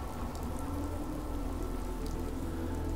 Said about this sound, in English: Of course, I can't see anything through this rain.